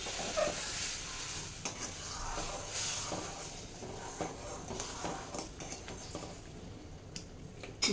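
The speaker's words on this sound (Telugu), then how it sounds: "ఇప్పుడు మిక్స్ చేద్దాం" Sooji halwa stirred in a pan, a soft continuous scraping and gentle sizzle with irregular utensil taps throughout, fairly quiet and close.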